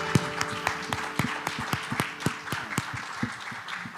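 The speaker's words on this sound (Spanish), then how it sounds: "Dale un fuerte aplauso al Señor" Lively clapping from a church congregation, uneven sharp claps running steadily throughout with background noise beneath.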